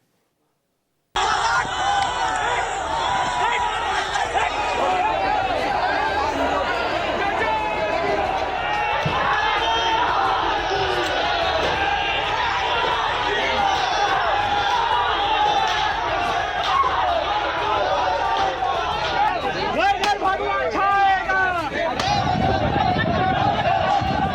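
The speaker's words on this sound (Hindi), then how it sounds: "हंगामा हुआ, मकबरे में तोड़फोड़ हुई," Crowd commotion during a protest at a tomb in Fatehpur where vandalism broke out, a dense, continuous roar of many voices shouting and clamouring together, with a surge of louder shouts near the end.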